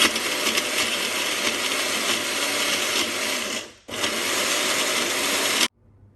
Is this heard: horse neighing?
no